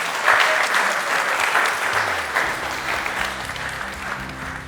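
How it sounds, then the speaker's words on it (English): An evening event audience applauds after a pitching-techniques session, a full, continuous wash of clapping from many hands, fairly loud and close, holding steady with a faint low tone entering partway through. "Give yourself a massive round of applause, everyone."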